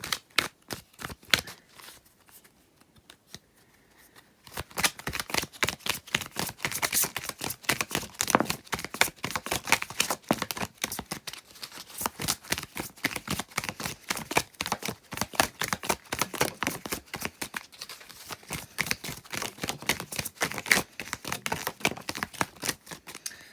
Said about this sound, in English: I just felt like I wanted to keep shuffling this deck for you guys